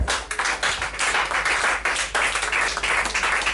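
A church congregation claps and applauds for Jesus Christ, a dense, steady roar of many hands from start to finish with no break.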